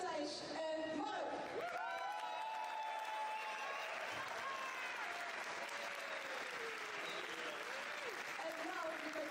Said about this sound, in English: So first, I want a big round of applause for Thijs and Mark.